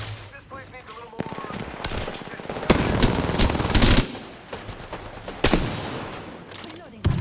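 Bursts of video game gunfire with rapid automatic volleys and sharp shots, loud and close, heaviest in the middle and near the end, while a player talks between and over them.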